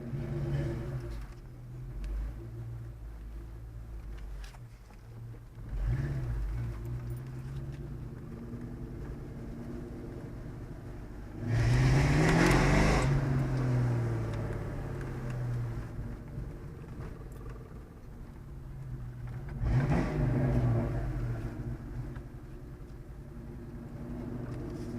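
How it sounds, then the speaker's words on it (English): A Ford Mustang GT's engine idles with a steady low rumble, then revs up sharply twice in loud swelling bursts around the middle and near the end, each settling back to idle. "Rev it up for you guys."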